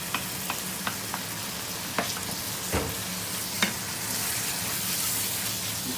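Chana dal with chicken and spices frying in a pan makes a continuous sizzle, with a few sharp crackles and stirring taps along the way and no voices.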